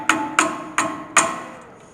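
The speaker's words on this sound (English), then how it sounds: "take a screwdriver and a hammer" Four sharp metallic taps, evenly spaced, a hammer striking a screwdriver up close on a Toyota Tacoma ball joint, each ringing briefly before fading.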